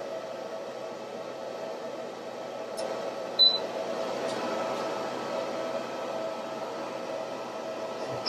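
Steady whirring hum of an inverter's cooling fan running on a 12V 100Ah lithium battery setup, a constant broadband drone holding even throughout with one brief click partway.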